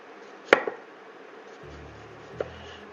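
A knife cuts thin slices of onion for pho, giving two sharp chops against a board a couple of seconds apart, close and crisp, with a low hum between them.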